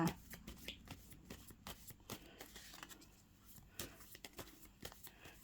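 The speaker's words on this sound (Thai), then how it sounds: "ขอเป็นตัวแทนสับไพ่ตัดไพ่ให้คนเกิดวันศุกร์นะคะ" Tarot cards being shuffled and cut by hand, a run of soft, quick papery riffles and taps close to the mic, fairly quiet throughout with no talking.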